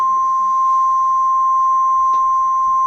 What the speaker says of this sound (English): This is a test of the NOAA weather radio's warning device.